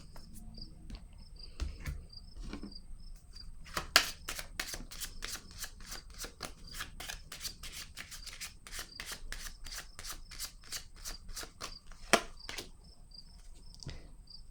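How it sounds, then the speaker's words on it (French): Tarot cards are laid out and handled on a table, giving a soft, rapid papery rustle and light taps, while crickets chirp steadily in the background. "Je vais déposer une autre carte ici."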